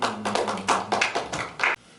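A church congregation gives a round of applause during a Sunday worship service, a close burst of clapping in several quick pulses that cuts off abruptly.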